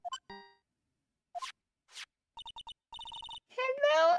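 A phone rings in the video game Ace Attorney: Trials and Tribulations: a run of short, evenly spaced electronic chirps in the middle, framed by brief game blips, with a voice speaking at the end.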